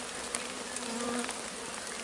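A swarm of honey bees hums steadily and close, a dense continuous buzz of many insects with slight wavering in pitch, no voices over it.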